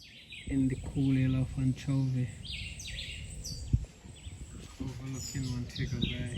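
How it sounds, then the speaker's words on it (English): Birds chirp and sing at the Rockland bird sanctuary in the hills of Anchovy above Montego Bay, Jamaica, where hummingbirds are fed. Bright, scattered calls come from nearby while a person speaks over them. "as we listen to the birds sing"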